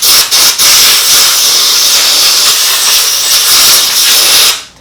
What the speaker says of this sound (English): dry care is compressed air, and basically it cleans off the hair inside the clipper